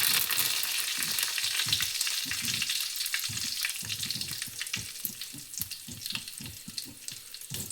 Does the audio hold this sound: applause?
no